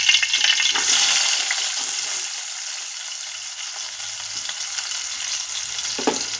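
Onion and green chili frying in a pan, a loud bright sizzle that bursts in as they hit the hot oil, then settles into a steady crackle, with brief stirring.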